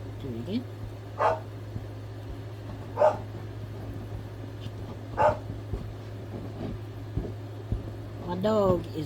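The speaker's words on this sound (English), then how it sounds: "My dog is mad because the tiny dog was in here." A pet dog barks after a visiting Chihuahua has left, giving four separate sharp barks spaced a couple of seconds apart over a steady low hum, with a final bark that trails into a whine.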